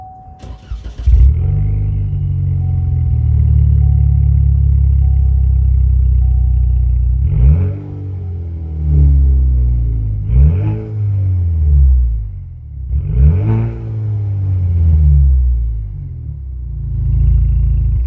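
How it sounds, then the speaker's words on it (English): A Cadillac ATS 2.0T engine idles with a deep, loud rumble, then three sharp revs rise and fall in a row, close by, with a raw, unmuffled muffler-deleted exhaust tone. "So as you heard, that is the muffler deleted exhaust."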